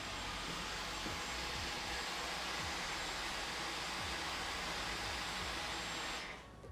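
A Dyson V15 cordless vacuum cleaner running in eco mode, a steady airy whine with a low hum that holds evenly for several seconds and then cuts off, heard close with no talking.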